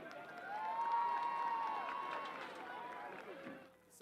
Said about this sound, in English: Please join us in giving a round of applause for today's